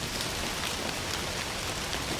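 Steady, dense rainfall hisses evenly across a surface in the Indiana Jones and the Great Circle video game, a constant close wash of drops with no voices.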